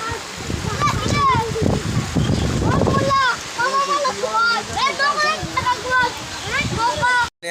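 Rain floodwater rushes loudly over a submerged cattle market near a bridge, a constant roar with wind buffeting the microphone, while people talk over it.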